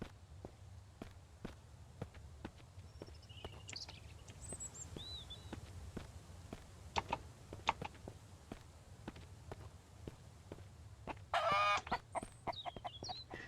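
A chicken clucking in the survival video game Mist Survival, intermittent clucks over a steady run of footsteps, ending in a louder burst of squawking near the close.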